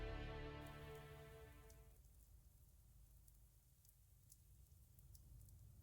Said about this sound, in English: It's begun to rain. Cold winter rain hammers the rain gutter.